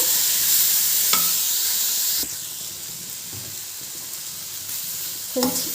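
Sour tomatoes frying in a pan for sambar, a constant loud hissing sizzle with a few spoon knocks against the pan and no talking.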